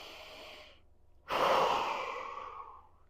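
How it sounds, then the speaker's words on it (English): A person breathes in and out on purpose, one slow exhale trailing off, a short pause, then a strong, close breath rushing out and slowly fading, with no talk. "One, you just breathe in and breathe out."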